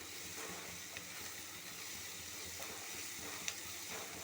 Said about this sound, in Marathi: हे मिश्रण आपण छान त्याची ढवळून घेऊया हाय फ्लेमच आहे गॅसची